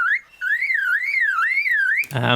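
A lyrebird imitates a car alarm, looping rising-and-falling electronic siren tones, clear and close, cut off at the end by a rough noisy burst.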